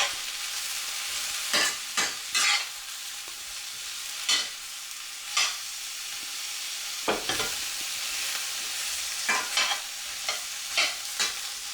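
A metal frying pan scraping against a hob in a series of short, sharp bursts, some isolated and some in quick clusters, over a steady background hiss.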